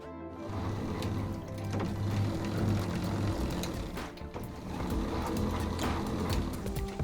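A Jobo film processor developing C41 color film runs steadily with a continuous mechanical whir and rhythmic clicking, fairly close and unbroken throughout.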